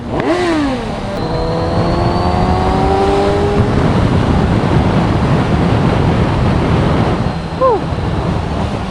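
Kawasaki Ninja 1000SX engine on the move, a loud sustained roar with rising and falling pitch sweeps as it revs through the gears, heavy wind rush throughout, and a brief sharp rev near the end.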